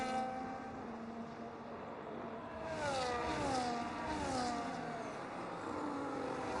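Racing cars at Circuit of the Americas in a sim racing game, a Ferrari and an Aston Martin dueling through a corner, engine tones rising and falling in overlapping revving whines that swell midway, steady and moderately loud with no talk.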